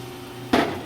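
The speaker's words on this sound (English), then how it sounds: "The middle roller here just came up, so when the piece comes forward" HEM VT 150A-SS vertical saw clamping a workpiece: after a quiet machine hum, one sudden loud metallic clunk as the clamp engages, followed by a lingering mechanical rumble.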